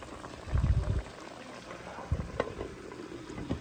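Spinach chicken with ghee boiling hard in a pot over a high flame, a low bubbling churn with a few louder thumps and gurgles, close and fairly quiet.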